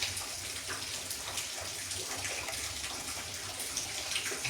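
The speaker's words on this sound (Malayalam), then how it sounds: "കുറച്ച് വെള്ളം ആഡ് ചെയ്ത് കൊടുക്കാം." Water is poured into a pan of spicy Kerala-style tuna fish curry, giving a steady splashing gush that runs at an even level throughout.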